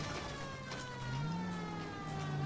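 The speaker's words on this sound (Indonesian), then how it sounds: "Matiin sirine biar nggak curiga orang-orang." A police car siren in the video game L.A. Noire sounds as a steady wailing tone with one slow rise and fall, moderately quiet against a background of engine noise.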